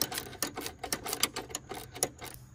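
A 10mm socket wrench working on a battery bracket of a Lexus GX470, a rapid series of sharp ratcheting clicks in quick uneven bursts, close and fairly faint, no talking.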